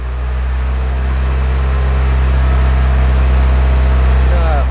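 A Mini Cooper engine, freshly installed, is held at about 2,000 RPM, giving a loud, steady, low drone with a constant hum that barely changes across the whole stretch.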